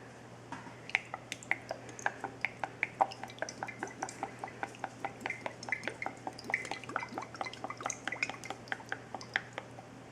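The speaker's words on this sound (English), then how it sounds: "I'm going to be adding some Frank's Red Hot sauce to this brine as well" Frank's Red Hot sauce drips and splashes into a pickle juice brine in a steady run of small, close liquid plinks with a faint kitchen hum underneath.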